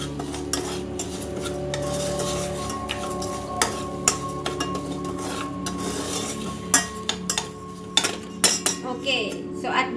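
Quinoa and salt being stirred in a pot, with repeated metal utensil scrapes and clinks against the pot over a faint sizzle, close by, no talking.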